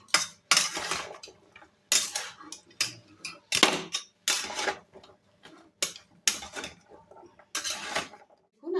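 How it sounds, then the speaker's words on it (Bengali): A utensil scrapes and clinks against a pan while mixed vegetables with shrimp are stirred, a regular rhythm of about a dozen close metallic scrapes and taps with brief pauses between them. "এবার ভালো করে সবজিটাকে নেড়ে নিতে হবে"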